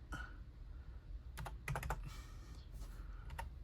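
Quick bursts of keystrokes clatter on a computer keyboard, quiet and close, in short irregular runs with pauses between them.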